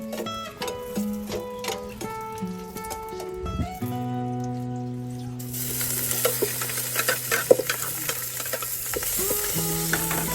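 Corn cooks in a pan in a provincial kitchen, with a steady loud sizzle and repeated scraping stirs of a utensil against the pan, close up and with no talking.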